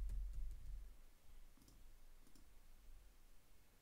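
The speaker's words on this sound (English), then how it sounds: "Let's check what it is by clicking on it." A computer mouse clicked a few times, the sharp clicks faint against a quiet background hum with no voices.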